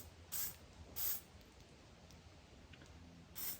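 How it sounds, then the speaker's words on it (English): WD-40 spray lubricant hisses from a can in three short bursts while fitting a valve stem into a new ATV rim, quiet and close, separated by near silence. "I'm going to lube it up with some WD-40."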